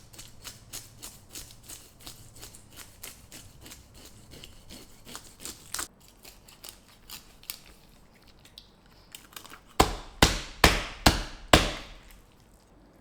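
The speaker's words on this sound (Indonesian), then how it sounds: "kita sudah siapkan fish scaler. Ini fungsinya untuk membuang sisik ikan. Ini terbuat dari kuningan" Brass fish scaler working over a barracuda, giving a run of steady rapid scraping strokes, then a brief pause and five loud, sharp, evenly spaced scrapes close up at the end.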